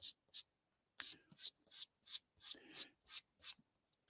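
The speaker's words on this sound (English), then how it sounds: "I am going to give that one a quick sand" Quick hand sanding of a plastic model kit part to clean up flash: about eight short rasping strokes in a steady back-and-forth rhythm, close and fairly quiet, with no talking.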